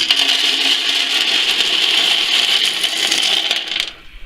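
A coffee grinder whirs steadily as it grinds rice, peas and beans into bird food, a loud, gritty, high rattling drone running for about four seconds before it stops abruptly.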